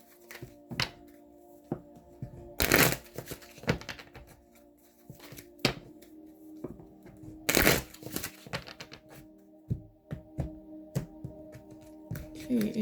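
Romance Angel oracle cards shuffled by hand produce repeated soft slaps and riffling bursts at irregular intervals, close up, with faint handling clicks between them.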